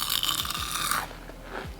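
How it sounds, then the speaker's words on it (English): Crispy air-fried kale chips crunch up close between the teeth, with a few sharp, brittle bites followed by quieter chewing, and no talking. "These are perfectly crispy, crunchy, delicious."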